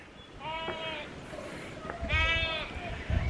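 Lambs on a New Zealand farm bleat twice, each a drawn-out, wavering call, fairly close, over a light breeze.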